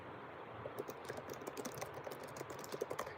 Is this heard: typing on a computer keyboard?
yes